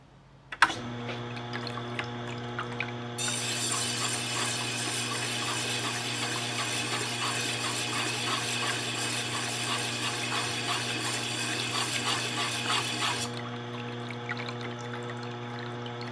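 A rotary cutter blade is ground on a spinning sharpening wheel. A steady motor hum starts with a click, then a bright, continuous grinding hiss holds for about ten seconds before it stops and the hum carries on.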